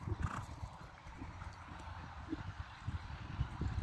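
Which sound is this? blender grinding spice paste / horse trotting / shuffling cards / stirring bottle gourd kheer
horse trotting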